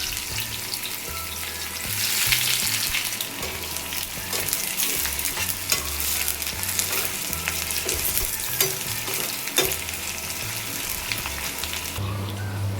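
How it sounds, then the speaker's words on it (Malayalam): Onions frying in ghee for fried rice give a steady, loud crackling sizzle that runs the whole time, with occasional stirring scrapes and no voices. "അതിനായി അല്പം നെയ്യ് ഒഴിച്ചിട്ടുണ്ട്. നിങ്ങൾക്ക് വേണമെങ്കിൽ നെയ്യോ എണ്ണയോ ഏത് വേണമെങ്കിലും എടുക്കാവുന്നതാണ്. നമ്മൾക്ക് ഇതിലേക്ക് സവാള ഇട്ട് വറുത്തെടുക്കാം."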